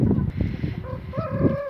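Hens gathered near their coop, soft clucks and short calls rising and falling close by against a gusty, breezy background.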